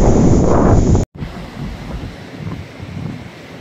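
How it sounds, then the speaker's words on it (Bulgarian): Large Atlantic Ocean waves crash onto volcanic rocks at a tourist viewpoint, heard as a loud, continuous roar of surf with heavy wind buffeting the microphone, briefly cutting out before the steady wash resumes. "И огромните вълни, идващи от Атлантическия океан, се разбиват скалите."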